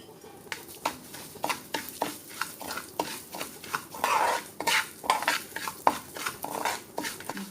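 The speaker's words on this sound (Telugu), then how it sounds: "ఆ నేతిలోనే మనం తీసుకున్న ఎర్ర గోధుమ రవ్వని వేసి వేయించుకుందాం" Red wheat semolina roasting in ghee in a pan for Annavaram prasadam, stirred with a metal spoon that scrapes and clinks against the pan in a steady rhythm of close, repeated strokes over a faint sizzle.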